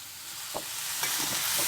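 Pumpkin pieces sautéing in a pan for a Tamil yellow pumpkin poriyal, with a steady soft sizzle and a few scraping stir strokes, close and unaccompanied by talk.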